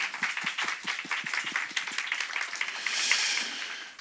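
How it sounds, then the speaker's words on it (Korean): Clapping of encouragement for high school seniors at a church youth service, a group of hands with a steady rhythmic beat, then a denser, continuous wash of applause near the end. "수고한 우리 고3들에게 격려의 박수"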